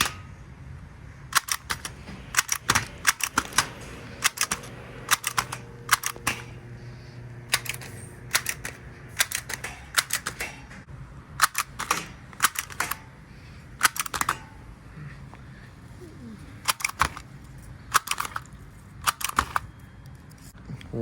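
A handheld sticker gun labels sterilization packages for surgical instruments, firing sharp, irregular mechanical clicks and clacks in quick bursts with short pauses, fairly close and distinct over a low background hum.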